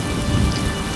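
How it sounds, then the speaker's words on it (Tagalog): Heavy rain pours in a dense, loud hiss, with a low rumble of thunder rolling underneath throughout the short stretch. "ang pagbuhos ng malakas na ulan"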